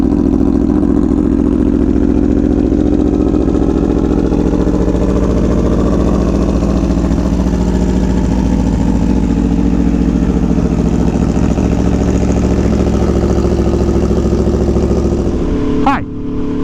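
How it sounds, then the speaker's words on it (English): A 2017 Aprilia Tuono V4 1100 Factory motorcycle hums steadily while being ridden, a loud constant engine drone with wind rush throughout, then a brief sharp change near the end. "I am riding my 2017 Aprilia Tuono V4 1100 factory"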